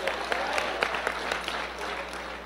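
A church congregation claps along in a steady, quick rhythm of distinct hand claps over a sustained room murmur, moderately loud and somewhat distant.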